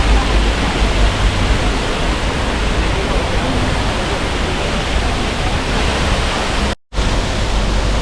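Waterfall in Nan Lian Garden, a landscaped Chinese garden with sculpted trees and a koi pond, pours as a steady, loud broadband rush that fills the whole stretch, cutting out briefly near the end.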